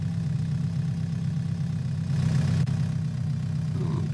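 A tractor engine in a farming video game drones steadily at a low pitch while the tractor drives down a road, a constant mechanical hum with no pauses.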